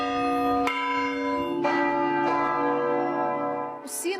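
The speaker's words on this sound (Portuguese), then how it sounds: "Os sinos da Igreja Católica em várias partes do país dobraram em homenagem a Anchieta." Catholic church bells in Brazil toll loudly with rich, sustained ringing tones, a few fresh strikes layering over the long lingering hum.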